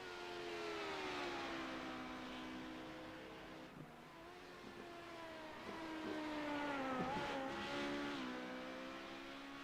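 A Honda LMP2 prototype race car in iRacing sim racing, its engine note droning and shifting pitch continuously as it carries speed around the track, steady and fairly loud with no talk.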